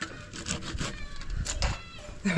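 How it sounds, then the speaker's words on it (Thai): Rhythmic rasping strokes of a hand saw cutting through wood, back and forth at an even pace, with faint voices in the background. "เลื่อยเลยเลื่อยเลย อ๋อก็เลื่อยเนี้ยละเลื่อยอ่ะ"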